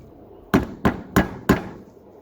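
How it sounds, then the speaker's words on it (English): Four evenly spaced solid thuds as a plain dead blow hammer taps valve seals into place on a 1996 351W 5.8L engine, close and distinct with quiet between strikes. "You can hear that nice solid thud. That's how you know it's all the way down."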